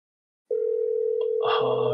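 A telephone line tone on an outgoing call: after half a second of silence, a steady continuous tone starts and holds. A second, lower tone layer joins near the end.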